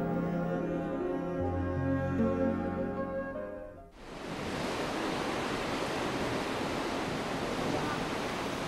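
Ocean surf at dusk, a broad steady roar of waves that rises suddenly after a stretch of soft music and then holds at an even, full level.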